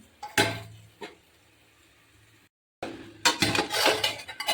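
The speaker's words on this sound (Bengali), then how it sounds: "এটাকে আমি ঢাকা দিয়ে দেবো।" A lid set onto a pot of cooking vegetables: a metallic clank and a softer knock, a short gap, then a longer burst of rattling metal and sizzle, close by and with no talk.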